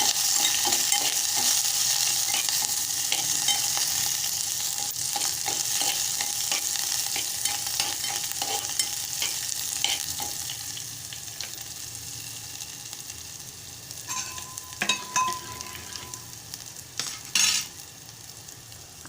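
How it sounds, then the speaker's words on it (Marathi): Buttermilk kadhi being stirred in a pan, Malvani style with ginger added: a steady soft scraping and swishing with faint bubbling, fairly close, and a few sharper clinks of the spoon against the pan toward the end, with no talk. "आता ताक ओसत आहे आता ढवळत राहायचं"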